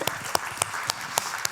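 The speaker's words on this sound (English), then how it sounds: "And please clap for that, because I'm very happy." Audience clapping at a data and partnerships talk: sparse, fairly faint applause with a few distinct claps standing out at an uneven rhythm over a soft room wash.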